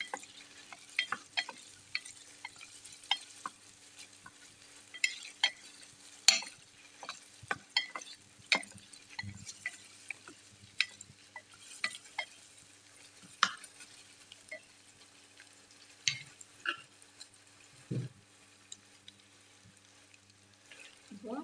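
Green chillies and onion fry in oil for sprouted pearl millet pulao, giving a faint, sparse crackle with scattered spits and occasional stirring clicks in a quiet kitchen.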